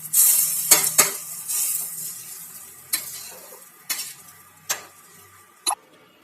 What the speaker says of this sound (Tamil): இப்போ இதை அப்படியே புலாவில் ஊற்றி கிளறி விட்டுக்கலாம்